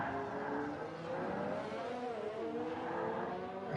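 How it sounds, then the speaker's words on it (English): A Mercedes race car brakes hard at its limit, with a thin, high squeal of brakes close to lock-up running over the steady engine roar and sweeping pitch changes. "hear that tiny little squeal of the brakes just about to lock up as they're just being pushed and tested at their absolute limit"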